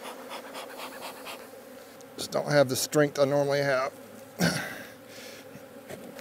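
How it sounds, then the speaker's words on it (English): Agitated honeybees buzz in a restless drone around a beekeeper during a fall hive inspection in South Alabama, a thin steady hum running beneath a man's strained speech. "these bees are not too happy with me. They're starting to get a little mad."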